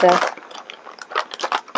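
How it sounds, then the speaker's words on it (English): Dry crinkling and rustling of paper, loudest at the start, then softer bursts of handling noise continuing close by, with a computer fan hissing in the background. "And sorry about the rustling."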